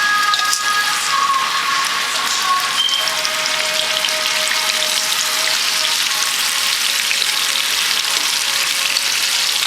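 Boneless Puerto Rican-style pork chops fry in a pan, a steady, loud, dense sizzle with crackle that carries unbroken for the whole stretch, with no one speaking.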